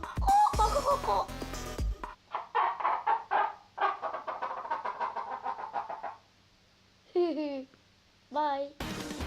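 Human voice imitating a brooding hen, a rapid series of clucking sounds in short rhythmic bursts after a noisy opening, followed by a pause and a few separate rising squawk-like calls.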